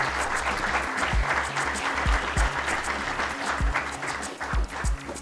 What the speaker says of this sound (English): Let's have please a round of applause for the panelists.